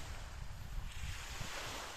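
Ocean water washes against the shore at a solo camping spot in New Zealand, a faint, steady surf wash mixed with wind buffeting the microphone.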